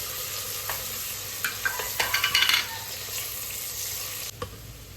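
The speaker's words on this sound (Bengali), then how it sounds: "পেঁয়াজগুলো ভাজা ভাজা হোক।" Chopped onions fry in oil in a pan with a continuous sizzle. A utensil stirs and taps against the pan in a quick burst of scraping clatter, then the frying carries on steadily with one more knock near the end.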